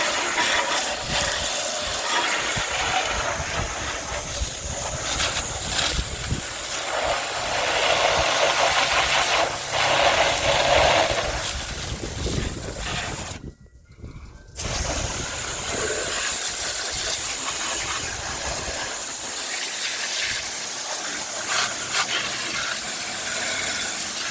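A garden hose sprays water across a car engine bay during a touchless wash, producing a steady broad hissing rush that runs nearly continuously, with one brief break partway through.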